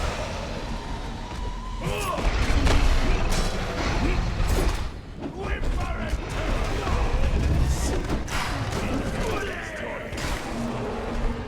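In the video game Conan Exiles, a dragon breathes fire as a continuous roaring, crackling rush over game mechanical clanks and thuds, with a person talking over it.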